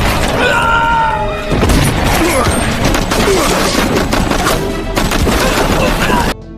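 A film gunfight, with loud, dense bursts of gunfire and heavy booms crashing almost nonstop, up close and overwhelming, before the noise cuts off abruptly.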